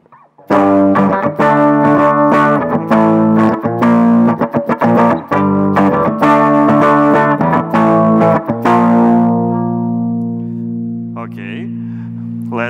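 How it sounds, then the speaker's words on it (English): A heavily distorted electric guitar, played without an amplifier, plays choppy, chugging chords, then lets a final chord ring out in a long, buzzing sustain. "try distortion without amplifier first"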